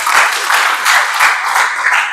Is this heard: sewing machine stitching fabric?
no